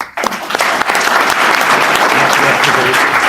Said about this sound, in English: How about a round of applause for Rick?